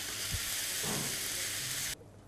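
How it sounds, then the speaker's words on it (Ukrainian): Apple pieces sizzle steadily in a hot pan as they caramelize, a loud dense frying hiss with a light stirring scrape, cutting down abruptly to quieter background near the end. "доводимо яблука до карамелізованості"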